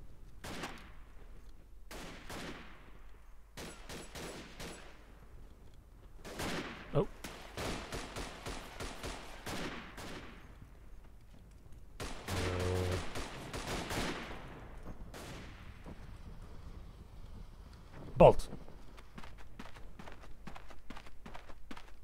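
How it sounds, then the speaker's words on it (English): Machine gun fire in the World War I shooter Verdun, heard as repeated bursts of rapid shots and scattered single cracks over a steady battlefield din, with one sharp louder report near the end. "I'm sniping with a machine gun"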